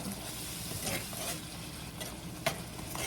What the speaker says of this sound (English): Okay, I'm gonna mix this up.